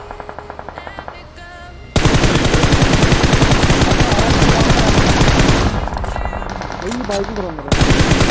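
Rapid automatic gunfire in the mobile battle royale game PUBG Mobile, dense bursts of loud shots, with a player talking briefly before and between the volleys.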